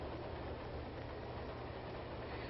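An early-1930s passenger train rumbles steadily, a continuous dense roar of rolling wheels and carriage noise that stays even and unbroken with no voices.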